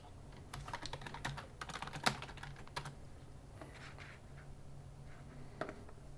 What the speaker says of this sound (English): if I type the right thing in, there we go